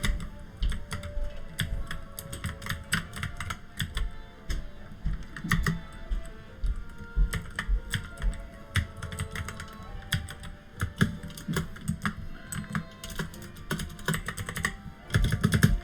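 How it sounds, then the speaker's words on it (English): Fingers type quickly and steadily on a computer keyboard, with dense overlapping key clicks and taps continuing without a break, close and fairly quiet. "Interesting, the keyboard's not working either."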